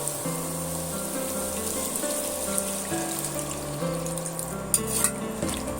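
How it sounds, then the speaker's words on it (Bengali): Water is poured into a pot of spiced potato curry (aloo dopeyaza) that was first fried with spices, giving a steady, close splashing and sizzling wash with no talking. "এখানে আমি সমস্ত মশলা দিয়ে আলুটা ভালো করে কষিয়ে নিয়েছি এবার আমি এখানে পানি অ্যাড করে দেবো"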